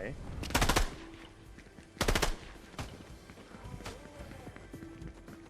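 Fortnite gunfire plays as two loud rapid bursts of automatic shots and some scattered single cracks, mixed with footsteps and game sounds under quiet talk in Thai.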